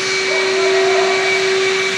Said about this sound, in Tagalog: nag-vacuum sa taas ng panel